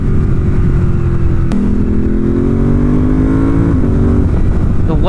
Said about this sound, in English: It has a great sound. A great sound. This bike's awesome.